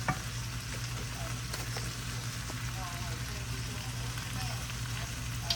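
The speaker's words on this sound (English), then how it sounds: "this stir fry is going to take about a good 15 minutes" Vegetables for a stir fry sizzle steadily in a pan, a continuous moderate hiss with faint scraping, no talk heard.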